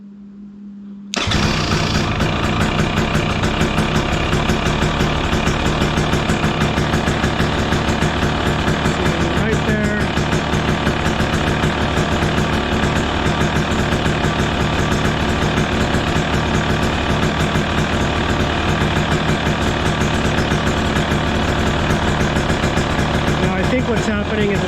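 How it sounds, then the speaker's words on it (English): 2023 KTM 300 XC dirt bike two-stroke engine starting up and then idling steadily at close range for over twenty seconds, a constant buzzy drone with no clear change in pitch. "we're gonna go ahead and turn on the bike"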